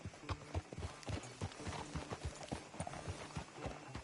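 Horse hooves clip-clop at a steady walking pace in a video game, a rhythmic run of close, crisp knocks continuing throughout with no talking.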